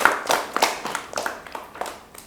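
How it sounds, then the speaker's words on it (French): A studio audience on a business challenge TV programme applauds, with a short burst of close, crisp claps that fade out over about two seconds. "Applaudissez à lui."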